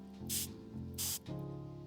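Two short hissing bursts of spray, close and fairly quiet, as fingerprint powder is sprayed in a video game, with a low game soundtrack humming underneath.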